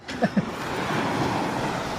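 Sea waves washing onto a sandy beach, a steady broad rush of surf that builds and holds, with two brief thumps near the start.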